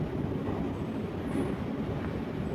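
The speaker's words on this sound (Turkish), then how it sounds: "29 Ekim Caddesi'ndeki metrodayım şu an." Metro train passing through an underground station on 29 Ekim Caddesi: a continuous heavy low rumble of wheels and carriages fills the space, loud and close, with a faint high squeal.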